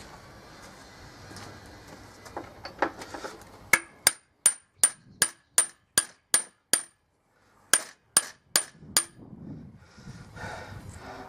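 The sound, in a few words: hammering metal trailer hitch part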